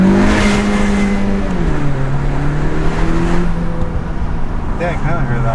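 The turbocharged engine of a Honda Civic Si fitted with a PRL intake revs up and settles in loud, close bursts, its pitch climbing and falling, with brief whooshing turbo sounds near the end.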